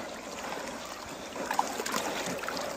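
Water pours into a concrete mixer as a steady rushing trickle, close by and moderately loud, with no voices over it.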